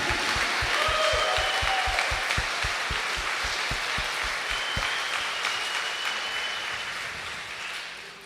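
A church congregation at Mass applauds steadily, with one clap beating out a rhythmic pulse over the general clapping before it tapers off at the end.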